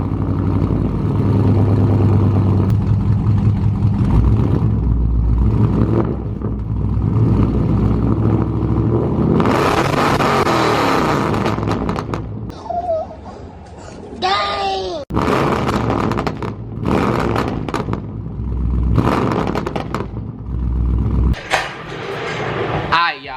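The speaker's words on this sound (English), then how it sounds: "This car also doesn't have any cats, no resonators, or no mufflers. So it's like super loud." A car with no catalytic converters, resonators or mufflers starts and revs, a loud raw rumble that swells through several throttle blips and drops back, with a voice talking over parts of it.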